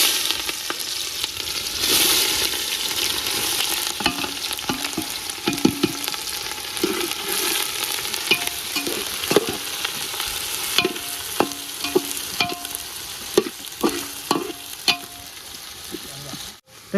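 Onion, bay leaves, cumin and mustard seeds fry in hot oil for veg pulao, a loud continuous sizzle with scattered spoon clinks and stirring taps close by.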